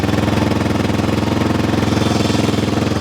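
A 1977 Yamaha XT500 enduro motorcycle's single-cylinder engine idles fast on choke after a kick start, a loud, steady rapid thumping pulse heard close up with no talk.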